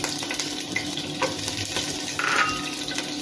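Three green chillies dropped into hot oil in a home kitchen, giving a steady low sizzle with light stirring clinks and occasional crackles, no voices.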